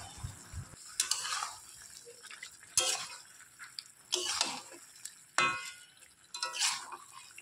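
Pointed gourd (potol) frying in a pan, with soft sizzling beneath repeated scraping stirs and clinks of a utensil against the pan, several distinct strokes coming at irregular intervals, close and fairly quiet.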